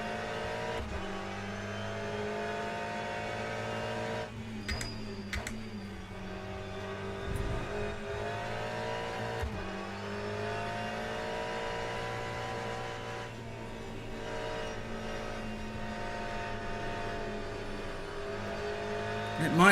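A race car in Le Mans Ultimate accelerates under gentle throttle, a steady, harmonic engine whine that climbs and holds over many seconds with brief gear-change dips, close and continuous, with a voice talking over it at times.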